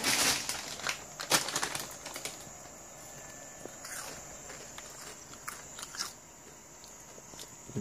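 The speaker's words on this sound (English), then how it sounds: "If you hear any crunching noises as I'm eating," Crunchy food eaten close to the microphone, a few sharp crunching bites early on, then quieter irregular chewing clicks over a faint background hum.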